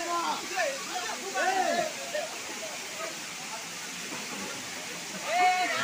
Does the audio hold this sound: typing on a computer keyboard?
no